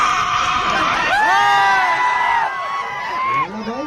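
A group of people shout and whoop loudly together, rising and falling cries at close range in a noisy, excited burst.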